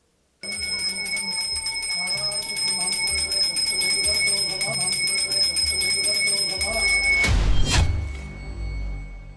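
A temple bell rings steadily in an underground cellar at a temple in Kashi, its bright sustained tones layered over a busy background for several seconds, ending in a loud thudding burst.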